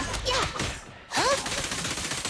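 Rapid gunshots in the Zenless Zone Zero video game, a dense burst of shots with sweeping effects, cut by a short gap then resuming loudly.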